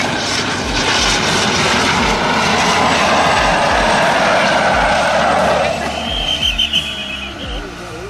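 An airplane lands on a runway after its nose wheel has broken, a loud, near engine roar that holds steady and then eases and fades toward the end, with a voice speaking over it.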